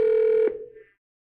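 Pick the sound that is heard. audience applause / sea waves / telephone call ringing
telephone call ringing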